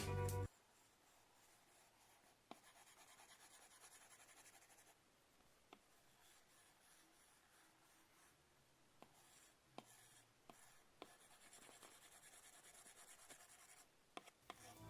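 An Apple Pencil writes on a paper-like iPad screen protector, giving quiet, close scratchy strokes and soft taps in irregular bursts.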